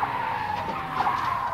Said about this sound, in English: Yeah, the car flipped over.